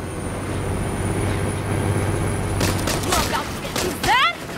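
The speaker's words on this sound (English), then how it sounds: "Let's catch that train." Train ride in the Saints Row video game with a steady low rumble of rolling carriages, then sharp burst-like gunfire and rising whistle-like tones near the end amid game effects.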